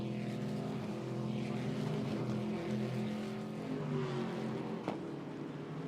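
Ginetta GT race cars at Snetterton, engines droning loud and close with high sustained tones as they pass over the timing line, the noise steady and layered from several cars.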